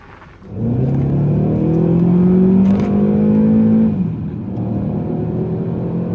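An Audi A1 1.4 TFSI 185 hp engine, heard from inside the car, revs up in a rising drone that holds, then drops back to a steadier hum, loud and close.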